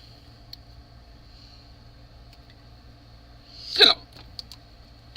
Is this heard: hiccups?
yes